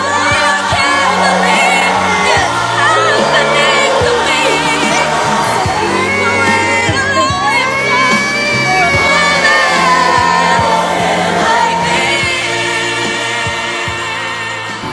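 Three children scream together, a loud, continuous, shrill chorus of yells and whoops that fills the whole stretch and fades slightly at the end.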